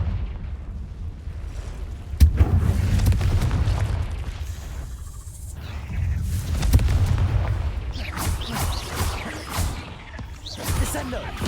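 A Confringo blasting spell explosion in Hogwarts Legacy, inside a cave: deep, rumbling booms with a sharp initial burst, followed by further low blasts and crackling debris, loud and close.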